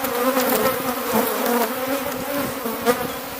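Agitated honeybees in an opened hive give a dense, continuous close buzzing drone with fluctuating pitch and no speech.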